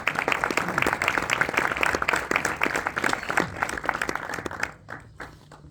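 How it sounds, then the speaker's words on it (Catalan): A large audience at a rice brand's campaign launch gives sustained applause for the presenters, dense and loud clapping that fades out near the end. "Així que un aplaudiment molt gran per a Jorge de Agencia Kids i per a Lorena Lázaro de Arroz d'Axa, per favor."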